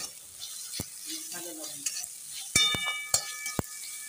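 Turmeric and salt frying in a pan after brinjal has cooked down, before boiled greens go in; a soft, low sizzle with a few sharp clinks and taps of a utensil against the pan, close and fairly quiet.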